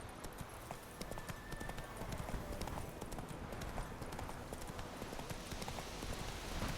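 Horse hooves gallop in steady clip-clop rhythm in The Witcher 3, close and fairly loud over a continuous outdoor ambient bed, with no talk.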